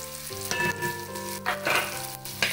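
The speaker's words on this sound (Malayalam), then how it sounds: "ഇനി ഇതിലേക്ക് നമ്മൾ ക്യൂബ്സ് ആയിട്ട് അരിഞ്ഞു വെച്ചിരുന്ന സവാള ഇടും" Cubed onion drops into a pan with ginger and garlic and fries with a bright, steady sizzle, close up, broken by a few stirring scrapes.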